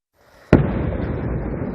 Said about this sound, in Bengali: এ সময় নিয়ন্ত্রণ রেখা বরাবর বেশ কয়েকটি বিস্ফোরণের শব্দ শোনা যায়